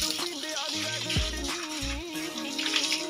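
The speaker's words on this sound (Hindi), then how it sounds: "अभी हम पानी मारेंगे" Water spraying onto a motorbike during a wash, a running, splashing gush with shifting tones as the stream hits different parts of the bike, close and moderately loud with some background noise.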